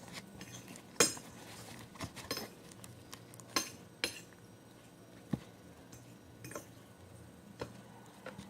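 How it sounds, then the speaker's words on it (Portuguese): Slime is scraped off a spoon and mixed by hand, giving quiet scattered clinks and taps with soft wet handling noise between them, close but faint, without talk. "Tirar aqui da colher e vou mexer com a mão."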